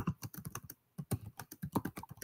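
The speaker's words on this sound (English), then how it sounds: "I'm typing it in." Keys clack on a computer keyboard in quick, uneven bursts of close, crisp taps, with a brief pause near the start before typing resumes.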